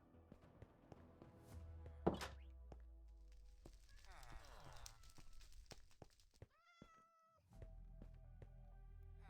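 Cats meow in a Minecraft world, several distinct mews and a drawn-out call ringing from a distance, faint and scattered among quiet footsteps and clicks, with someone talking over them.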